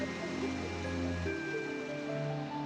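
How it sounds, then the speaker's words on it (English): Water streams steadily through the Swamp Palace dungeon in The Legend of Zelda: A Link Between Worlds. It makes a soft, constant rushing hiss beneath sustained in-game music tones. "I have questions about how that water is flowing."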